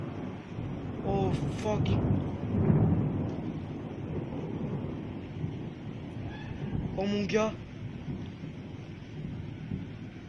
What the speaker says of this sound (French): L'éclair vous l'avez vu, le son vous l'avez entendu.